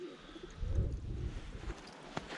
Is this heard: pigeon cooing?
yes